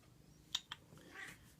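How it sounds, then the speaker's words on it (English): A pet cat gives two short, faint chirpy calls followed by a soft, drawn-out meow in a quiet room. "She meows a lot, I mean."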